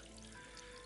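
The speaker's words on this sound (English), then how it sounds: "a little drop, this little waterfall" A small waterfall trickles into a mountain pool on the Hatterall Ridge in the Black Mountains, a faint, steady wash of falling water with no talk.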